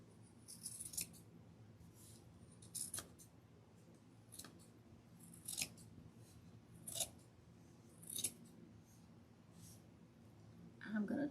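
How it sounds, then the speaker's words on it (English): Scissors snip through fabric while trimming a large gingerbread man craft, in several short crisp bursts spaced a second or two apart over a low background hum. "I'm going to trim this up."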